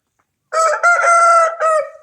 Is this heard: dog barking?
no